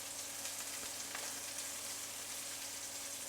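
Burger patties fry and sizzle in a hot pan with a steady, dense hiss that holds close and even from start to finish, with no voices over it.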